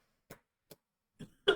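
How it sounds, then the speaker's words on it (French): A person coughs and clears the throat in a quiet room, four short separate bursts with the last one loudest, no talk around them. "Parce que là, je tousse, mais je ne toussais pas avant"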